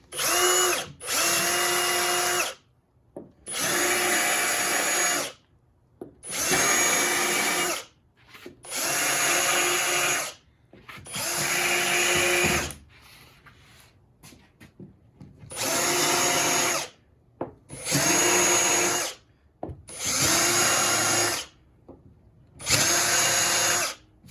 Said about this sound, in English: And here we go with our countersink